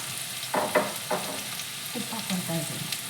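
Turmeric powder frying in a little oil in a pan for a puffed-rice tempering, a soft steady sizzle with a few scraping stirs, close and fairly quiet.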